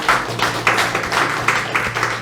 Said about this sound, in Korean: 우리 김건우 집사님 하시는 일 잘 되시라고 박수 한번 쳐주겠습니다